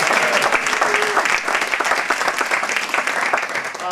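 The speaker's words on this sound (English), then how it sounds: "How about a nice round of applause" A live show crowd at a storytelling event claps loudly and steadily, dense applause filling the room from start to finish with no talk over it.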